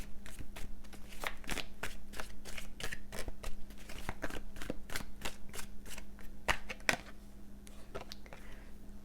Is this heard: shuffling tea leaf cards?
yes